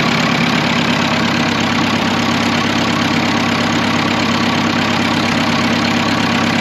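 Fordson E27N tractor engine idling, a loud, steady, close-up mechanical rumble with continuous broadband chatter and no variation or voices.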